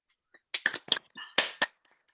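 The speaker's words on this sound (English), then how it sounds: "I wonder whether we might give her a final round of applause" A small online theatre audience claps as a final tribute, with about half a dozen sharp, separate handclaps close to the mic that quickly fall silent.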